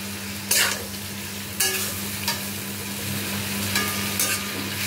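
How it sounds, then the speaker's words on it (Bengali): Water is poured into a pan of frying potatoes and spices, bringing on a steady sizzle with a few sharp bursts of hissing and stirring scrapes. It is close and fairly loud, and nobody speaks. "সব আলুগুলো এর মধ্যে ঢেলে দেব। এবার আমি জল দিয়ে দেব।"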